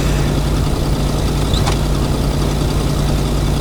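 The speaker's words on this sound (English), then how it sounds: "this engine is ridiculously loud" A car engine in the video game Kona runs with a loud, steady low drone and a constant hum, unbroken for the few seconds.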